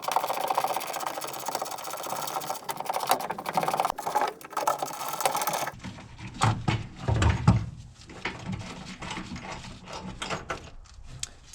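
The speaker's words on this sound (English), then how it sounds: "go ahead and break these loose, and you can go ahead and start loosening them all the way out" An 11/16 socket on a ratchet wrench loosens the rear chrome bumper bolts on a Ford Maverick, giving steady, close pawl clicking that turns into choppier, uneven ratcheting bursts partway through, with no talking.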